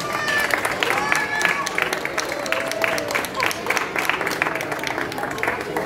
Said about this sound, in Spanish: aquí lo tenemos, un aplauso.